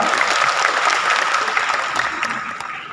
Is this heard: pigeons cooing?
no